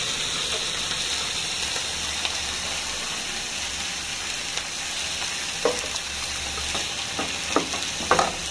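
A little water poured into a hot pan holding chicken fajitas in salsa verde with mushrooms and nopales, giving a steady hissing sizzle and steam, with a few light clinks and stirring taps near the end and no talk.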